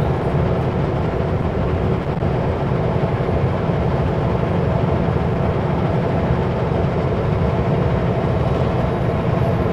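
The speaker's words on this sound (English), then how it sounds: "close to the engine so we get to get more of a raw engine sound" A semi truck's large diesel engine idles steadily up close, a constant deep rumble with no change in pitch or rhythm throughout.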